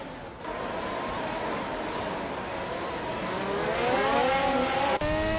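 In a racing video game, the engine of a 2022 AlphaTauri AT03 race car drones steadily and close by, its pitch climbing as it accelerates, before a sudden cut near the end.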